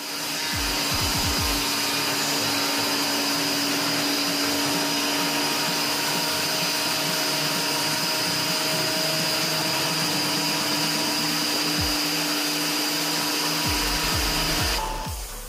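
A power sander works over planed pallet-wood boards, a steady loud whine running continuously throughout with a faint low rumble underneath, cutting off abruptly near the end.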